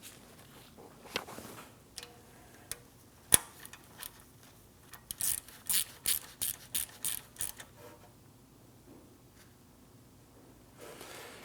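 A ratchet with an extension and a 5mm Allen socket tightens a bolt while a rear ABS wheel speed sensor is replaced on a 2009-2017 Audi Q5. A few scattered knocks come first, then a quick run of crisp, close clicks.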